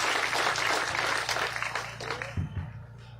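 An audience at a village gathering applauds, a dense wash of clapping that is loud at first and then thins and fades toward the end.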